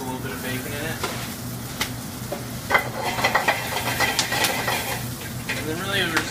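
Collard greens cook in butter in a pan, a steady close sizzle and frying hiss with occasional stirring and scraping, while a voice talks quietly over it.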